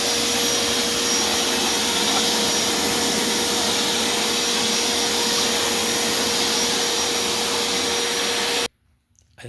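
A Black & Decker vacuum cleaner drones loud and close with a constant whine as it cleans a gym floor, then cuts off abruptly near the end, leaving near silence.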